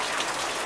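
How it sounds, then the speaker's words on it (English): Steady rain falling on a surface, a dense hiss of countless drops, loud and continuous for under a second with no voices. "Gotta go. It's raining."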